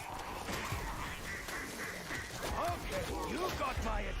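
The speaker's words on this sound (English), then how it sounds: "All the zombies start quacking." In Call of Duty zombies, a crowd of zombies quacks like ducks, scattered honking quacks that cluster toward the end over a steady game-sound backdrop and faint voices.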